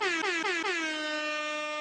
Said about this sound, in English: Yo, air horns for that one.